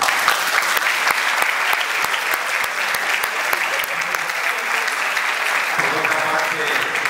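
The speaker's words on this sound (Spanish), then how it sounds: "Yo creo que nos merecemos un aplauso a los estudiantes" University audience applauding students, a loud sustained wash of many hands clapping at close range, continuing evenly throughout with no pause.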